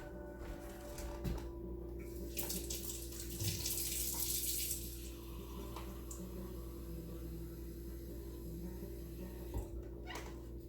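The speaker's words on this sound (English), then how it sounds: "So I'm going to rinse my hand and get a cup of water." Tap water runs steadily from a kitchen faucet as a hand is rinsed and a cup is filled, a continuous close splashing hiss that swells briefly midway.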